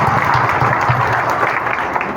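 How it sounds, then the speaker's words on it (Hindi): Crowd applause welcoming a speaker at an outdoor Phoolan Devi birth anniversary rally in Harchandpur, Raebareli, steady and dense clapping sustained throughout without a break. "एक बार ऐसे भाई का तालियों से स्वागत करिए"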